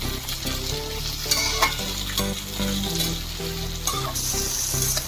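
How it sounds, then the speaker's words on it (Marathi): Peas, carrots and other vegetables for veg pulao fry in a hot pan under constant loud sizzling while a spoon stirs and scrapes throughout. The sound is close and continuous, with no talking. "वटाणे, आता छान आपण त्यांना परतून घेऊ 2 ते 3 मिनिट।"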